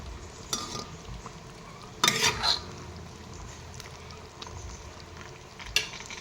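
Potatoes are added and stirred into a fish curry frying with green peas and cauliflower. Soft sizzling runs underneath a few sharp clinks and scrapes from a utensil, close and fairly quiet.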